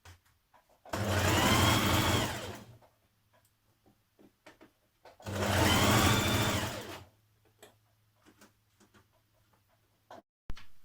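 A sewing machine stitches a seam on a Simplicity 8218 jacket, running in two steady bursts of about two seconds each, separated by a quiet pause with a low hum and small handling clicks.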